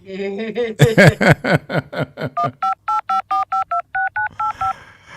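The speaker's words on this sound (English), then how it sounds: "We'll give her another phone call." Telephone keypad tones dial out a number for a call, a quick run of evenly spaced beeps after a brief burst of laughter, loud and close.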